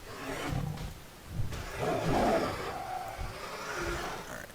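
Raptors roaring in World of Warcraft: guttural growling roars that swell and rumble over several seconds, loud and near, layered over game ambience without speech.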